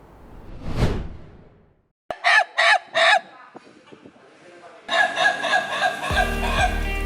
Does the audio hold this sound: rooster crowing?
yes